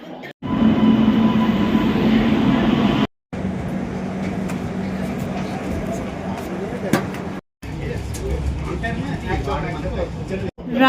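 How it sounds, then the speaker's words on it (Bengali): A train pulls out of Araku station bound for Visakhapatnam, a steady loud rumble of wheels and carriages rolling continuously close by, broken by a few brief gaps. "আরাকু থেকে বিশাখাপত্তনমের জন্য এই ট্রেন ছেড়ে দিল"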